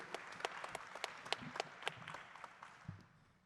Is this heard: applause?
yes